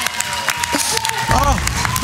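Brief clapping and cheering from a small group of Dutch secondary-school first-years during a silly party game, dense and close, mixed with excited voices and overlapping chatter.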